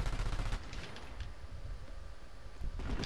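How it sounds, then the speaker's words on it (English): Gunfire in the shooter game Planetside 2 during a base defense, dense rattling bursts of automatic fire running throughout, fairly faint and somewhat distant, with a few louder cracks near the start and end. "Somebody's shooting from behind"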